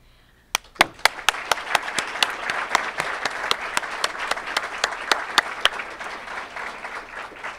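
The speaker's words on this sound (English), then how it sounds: "So give yourself a giant round of applause." A crowd at an awards ceremony breaks into sustained applause, dense clapping building quickly and holding steady, with a few sharp louder claps standing out near the front.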